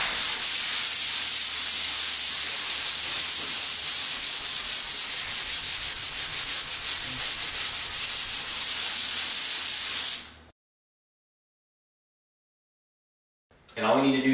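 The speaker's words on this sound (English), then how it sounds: "I'm going to take 150 grit sandpaper and I'm just going to hand sand it" Hand sanding a drywall patch with 150 grit sandpaper wrapped around a sanding block, steady close rasping strokes for about ten seconds, then silence before the scraping briefly resumes.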